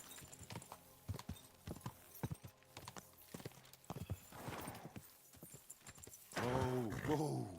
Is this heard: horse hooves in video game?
yes